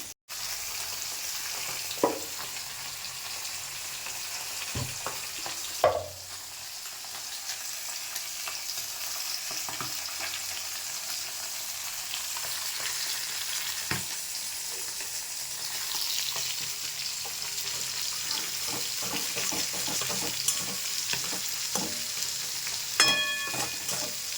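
Fish sizzling and frying in hot oil in a home kitchen, a steady crackling hiss throughout with a few sharper pops and spatters, loud and close, with no voices.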